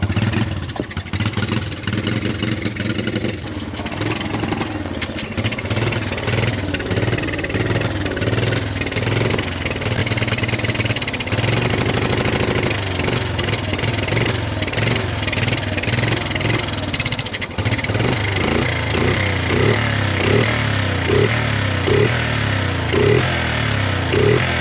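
A 1986 Honda three-wheeler engine runs steadily throughout, a loud, close, clattering single-cylinder putter with small rises and dips in revs and no talk over it.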